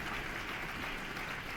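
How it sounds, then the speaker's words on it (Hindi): An audience at a Teachers Day celebration in a hall at Dev Sanskriti Vishwa Vidyalaya, Haridwar, gives sustained, even applause as the chief guest enters, with a muffled, roomy wash of clapping. "हम चाहते हैं अतिथि देवो भव की तालियों गूंजती रहें जब तक वो हॉल में प्रवेश करें"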